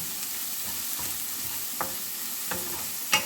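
Scrambled egg with onion stirred in a frying pan, a steady sizzle with a few scraping utensil taps over it, close and fairly quiet, with no talking.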